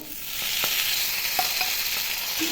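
Spices frying for an ivy gourd curry in hot oil, a steady broad sizzle with a few soft stirring clicks, close and continuous with no talking.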